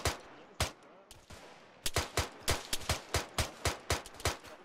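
Suppressive gunfire in Arma 3, a burst of sharp shots first, then a steady rhythmic run of about a dozen loud rounds fired one after another.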